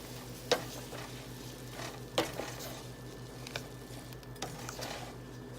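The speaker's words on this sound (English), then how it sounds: "I am going to add in my mushrooms. Just add them in and let those sweat down with my other vegetables." Mushrooms and other vegetables sweat down in a pan for Philly cheesesteak and chicken sliders, giving a low, steady simmering hiss with a few sharp utensil clinks against the pan.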